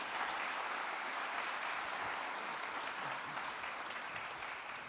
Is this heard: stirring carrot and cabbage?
no